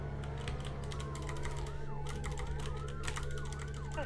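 A wailing ambulance siren in the game Maple County sweeps up and down repeatedly over a steady low hum and faint clicking, sounding synthetic and continuous throughout.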